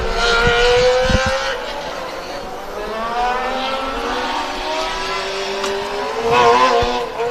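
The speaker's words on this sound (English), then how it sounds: "Some pops and bangs coming from PWR." A race car engine at an endurance event crackles with exhaust pops and bangs, revving and passing with a loud, sustained roar that swells near the start and again near the end.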